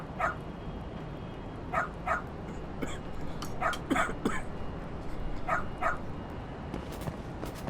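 A dog in the video game Lost Judgment barks in short yips, mostly in pairs, spread across several seconds over a steady game background, fairly faint and with no talk.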